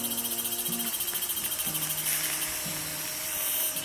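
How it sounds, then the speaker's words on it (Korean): Steady, pulsing cicada buzzing fills the background in chorus at an outdoor campsite, with a low droning hum beneath it. "또 옆에서 매미가 울고"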